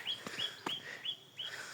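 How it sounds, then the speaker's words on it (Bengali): Doves calling outdoors on a cold winter day in Chuadanga, giving a few faint, thin chirps spaced apart at a distance, with no talk. "কতগুলা ঘুঘু পাখি।"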